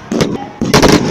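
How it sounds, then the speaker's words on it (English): Loud fireworks bursting during a New Year celebration in Uganda, with two rapid clusters of sharp cracking blasts close by filling the short stretch. "Fireworks nga ziwedde"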